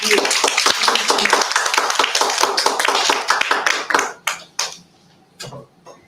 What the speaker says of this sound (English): If you could join me in giving a round of applause.